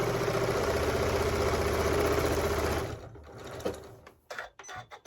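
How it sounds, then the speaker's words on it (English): A sewing machine runs steadily for about three seconds while stitching a lined drawstring mini backpack, then stops, leaving a few soft handling clicks and rustles. "I'm just going to keep sewing until I get to the top here"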